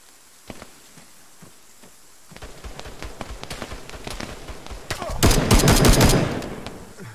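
Machine gun fire in the military shooter Arma 3, with at least two MGs firing from a rock formation: sparse distant shots building into dense rattling bursts that swell to a loud volley before fading.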